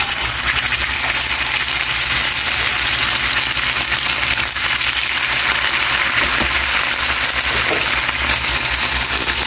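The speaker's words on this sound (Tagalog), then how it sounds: "habang piniprito natin yung ating baboy" Pork fries in hot oil in a pan or cooking pot, giving a loud, continuous, dense sizzle and crackle that holds steady throughout with no talking.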